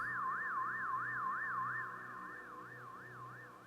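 A wailing siren from the game The Rise of the Golden Idol rises and falls in steady, repeated sweeps, loud and sustained, with a low rumble of traffic underneath.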